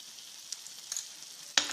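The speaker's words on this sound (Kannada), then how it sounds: "ಸ್ವಲ್ಪ ಸಣ್ಣ ಉರಿಲಿ ಇದನ್ನು ಕುದಿಸ್ಬೇಕು ಹುಳಿನ." Tamarind gojju for puliyogare, with jaggery and salt added, simmers in a pan over a low flame, giving a faint, steady sizzle and bubbling with a sharper pop near the end.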